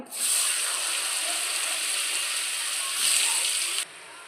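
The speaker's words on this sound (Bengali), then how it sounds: "গরম হয়ে গেছে, এর মধ্যে পনিরটা ভেজে নেব।" A continuous hissing sizzle of paneer frying in a pan, fairly loud and even, swelling briefly before dropping off abruptly.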